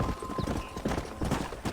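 Horse hooves clip-clop in a steady walking rhythm in the video game Red Dead Redemption, close and clear over a low ambient bed.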